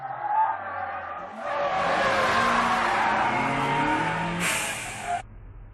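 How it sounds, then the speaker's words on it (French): An EG6 car brakes and turns at high speed in an animated mountain race, its tires squealing and skidding loudly for several seconds over a roaring engine. "Il freine et il tourne en même temps à cette vitesse folle."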